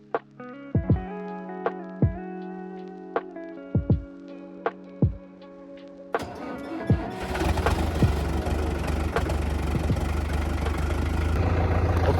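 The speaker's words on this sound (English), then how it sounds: "it's too cold today that the last tractor would start. We need to have a booster there to get the battery going" A tractor engine on a cold day, its battery helped by a booster, cranks with a series of uneven mechanical clunks over a tonal whine before firing up into a loud, steady, close running roar.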